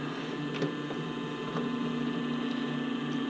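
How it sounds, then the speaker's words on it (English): A sewing machine hums steadily while sewing a V-stitch on a sports bra waistband, a continuous close motor drone with faint ticking of the needle and a few light taps. "I'm going to do a little V-stitch right where the two overlap"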